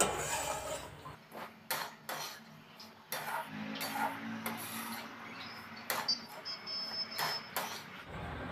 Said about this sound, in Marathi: मध्यम आचेवर सतत हलवत राहायला लागतो रवा.